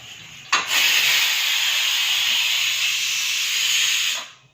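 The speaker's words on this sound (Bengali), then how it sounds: "রান্নাতে শুধু ভাত চাপিয়েছি দাঁড়াও সিটি মারবে একটা মনে হচ্ছে" A pressure cooker cooking rice on a home stove lets out a loud, steady steam hiss that starts suddenly, holds for several seconds and then fades out, with no voices.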